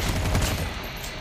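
A rapid burst of gunfire in Call of Duty: Mobile, loud and close, lasting about a second.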